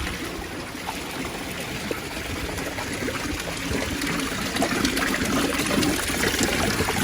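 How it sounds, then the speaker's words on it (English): Fresh mountain water flowing from a non-motorized fountain, a steady, close trickling and splashing stream that continues evenly throughout with no voices. "Fresh mountain water."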